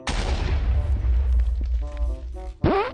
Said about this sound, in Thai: นี่ใครยิงไฟบอล